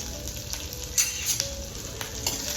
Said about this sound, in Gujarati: જીરું સતળાય એટલે આ મરચાં એની અંદર આખા નાખી દઈશું.